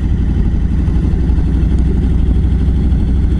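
A Harley-Davidson motorcycle rumbles steadily and loud while riding through city streets, heard from a mic fitted with a foam windscreen, a continuous low engine drone with wind noise and no break.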